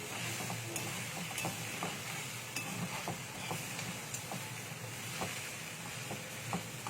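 Poha is stirred and turned over in a pan, faint sizzling under soft, scattered scraping and clinks of a spoon, quiet and close without any voices.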